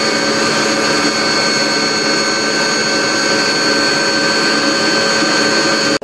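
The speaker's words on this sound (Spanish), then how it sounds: "con la ayuda de la máquina vamos a batir hasta que quede una crema homogénea" An electric mixer beats mascarpone cheese into cream with a loud, constant motor whine and steady whirring hum that runs unbroken, then cuts off abruptly at the very end.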